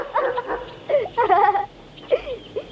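A female dog whimpers and yelps in a few close bursts, with whiny tonal cries separated by short pauses and a brief final whine at the end.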